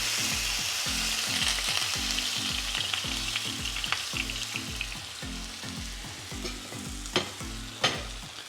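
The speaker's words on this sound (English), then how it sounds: "Time to put it inside and sear it in our pan." Swordfish searing in beef tallow in a hot pan, a continuous dense sizzle with a low rhythmic pulsing beneath and a couple of sharp pops near the end, with no voices.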